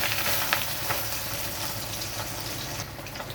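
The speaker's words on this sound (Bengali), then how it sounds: "মাছটা এক পিঠ ভাজা হয়ে গেছে, আমি উল্টে দিচ্ছি মাছগুলো" Pabda fish sizzle and crackle in hot mustard oil as they are turned in the pan, a close, continuous frying hiss with small pops and no talking.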